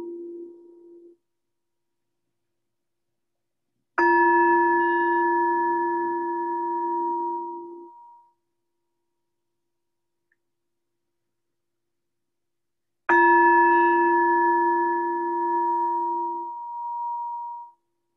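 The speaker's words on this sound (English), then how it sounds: "I'll ring the bell 3 times." A meditation bell sounds clearly in a quiet room: a short tone, then two long, ringing strikes spaced several seconds apart, each decaying slowly into silence.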